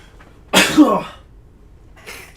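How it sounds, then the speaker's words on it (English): A single sharp sneeze bursts out close by, followed by a brief breathy exhale, then quiet. "Hold on, I got a sneeze coming on."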